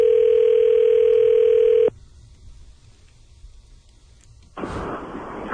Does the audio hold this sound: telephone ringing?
yes